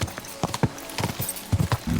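Horse hooves clip-clop in a steady walking rhythm across ground in Kingdom Come Deliverance 2, close and fairly loud, with a faint snort or whinny mixed in.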